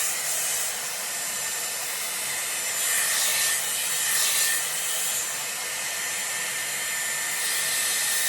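A Dyson Airwrap with a round brush blows a steady, loud airy roar while drying hair, with brief swells and a soft brushing rub as the hair is smoothed from the root.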